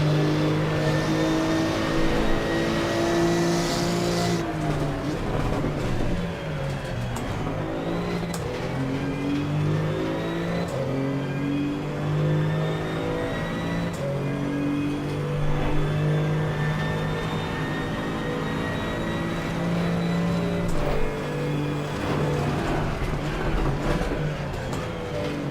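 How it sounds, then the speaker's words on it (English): GT2 race car engine in a racing game, a continuous loud rev that climbs and drops through the gears for the full stretch, close and unbroken, no voices. "But this car sounds completely different than the GT3 car."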